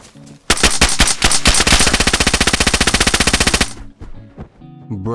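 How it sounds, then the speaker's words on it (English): Automatic gunfire at the airfield in the DayZ video game: a loud, rapid burst of many evenly spaced shots lasting about three seconds, followed by a few scattered quieter reports and faint voice sounds. "Yep, that's them shooting."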